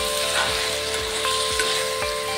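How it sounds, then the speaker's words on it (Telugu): Chicken curry ingredients frying in a pan, a steady broadband sizzle with periodic stirring scrapes and a constant tonal hum in the background. "బాగా ఫ్రై చేసుకోవాలి."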